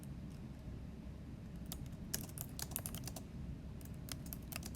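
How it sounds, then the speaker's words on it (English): Someone types a rough draft on a computer keyboard, producing quick irregular clusters of soft key clicks up close in a quiet room, with no talking. "notice when I'm typing, I just continue typing"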